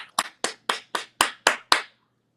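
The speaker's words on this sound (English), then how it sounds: "I think we're all applauding you right now." Seven sharp, evenly spaced hand claps from a single person, close and distinct, each about a quarter second apart, then silence.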